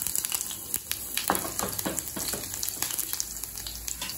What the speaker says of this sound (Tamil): பொடியாக நறுக்கின பூண்டு கொஞ்சம் சேர்த்துக்கலாங்க.